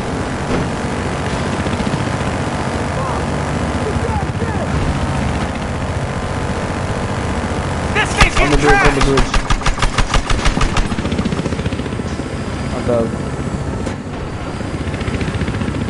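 Transport helicopter in the video game Battlefield Hardline, a steady engine and rotor drone under game noise, with a burst of rapid rhythmic chopping and clatter partway through; a voice talks at times.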